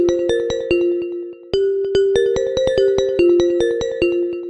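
An Apple iPhone Crystallophone ringtone plays as a bright, bell-like melody of struck tuned notes. The notes ring clearly and loudly in a quick repeating pattern, with no voices.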